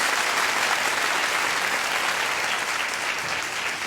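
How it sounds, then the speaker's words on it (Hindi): A studio audience at a comedy show claps continuously for about four seconds, a dense, even wash of applause that fades slightly toward the end. "तालियां बजाएं इस बात पे।"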